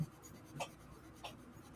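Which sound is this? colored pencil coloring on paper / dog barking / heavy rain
colored pencil coloring on paper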